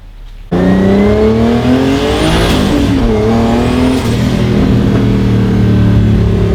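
A BMW E36 turbo car engine revs hard in several rising pulls, loud and close, with turbo whine sweeping up over the engine note between pulls.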